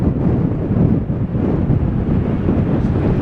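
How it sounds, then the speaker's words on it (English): Strong wind buffets the microphone on the Blackpool seafront, a steady loud roar with gusty rumble throughout and no other sounds standing out. "And for sure it is super windy, but what do you expect?"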